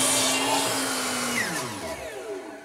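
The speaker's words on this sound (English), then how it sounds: "I'm going to make those miter cuts here at the chop saw" A chop saw swung to 45 degrees makes a miter cut: a loud, steady motor whine that fills the clip, then winds down in pitch as the blade spins to a stop.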